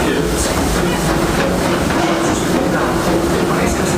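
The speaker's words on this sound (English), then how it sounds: "Welcome aboard the Disneyland Railroad." Disneyland Railroad train running through the park, a steady rumbling roll with faint rhythmic clatter throughout, loud and close, with a voice announcement over it.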